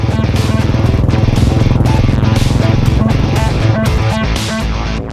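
A loud, continuous engine drone with a rapid pulsing rhythm, like a motorcycle running close by, steady throughout with no talking.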